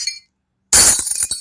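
Smash-glass sound effect from the InShot editor: a loud, sudden burst of shattering glass after a short silence, followed by scattered tinkling shards settling, with no talking.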